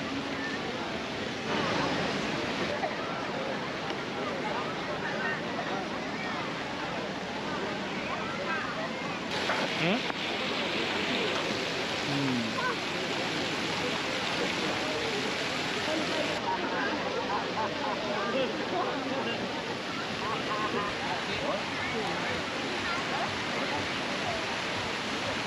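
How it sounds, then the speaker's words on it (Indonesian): Water fountain show in Kuala Lumpur at night, a steady broad rush of cascading, splashing water, continuous and fairly loud, with faint voices of a crowd beneath. "Ada pertunjukan air terjun, air mancur."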